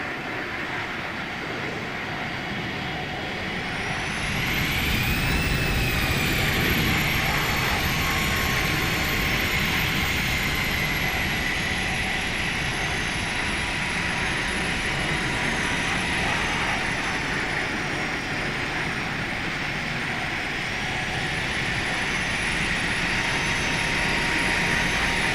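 Airbus A319 jet engine spooling up in a flight simulator game after start, a steady loud whine with a rising tone that settles into a sustained high hum over a broad rumble, running continuously throughout.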